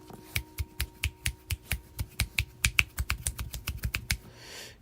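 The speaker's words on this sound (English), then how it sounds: "This music just got me clicking my fingers over here." Crisp finger snaps or clicks repeat in a steady rhythm, about twenty in under five seconds, close and fairly loud over faint background music, then stop.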